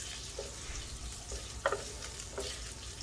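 Shrimp being stir-fried in a pan with a low steady sizzle, broken by a few short scraping stirs and clinks of a utensil against the pan.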